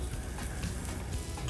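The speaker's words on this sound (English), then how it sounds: "We'll start off by sauteing some ginger" Ginger sautéing in a hot pan, a steady close sizzle and crackle of frying that holds continuously without pause, with faint stirring scrapes beneath and no voices.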